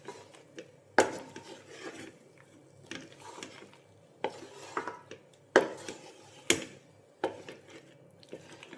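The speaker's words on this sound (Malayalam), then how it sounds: "വീണ്ടും ഒന്ന് ഇളക്കുക." A spoon scraping and knocking against a pan while vegetable white pasta is stirred, giving irregular clinks and scrapes with a few sharper metallic hits, close and moderately loud, with no talking.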